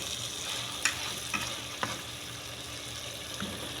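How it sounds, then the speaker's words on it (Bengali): A chicken and eggplant curry sizzles steadily in a kadai while it is stirred one-handed, with a few sharp spatula knocks against the metal over the constant frying hiss. "এক হাত দিয়ে কোনো রকম লেড়া দিলাম।"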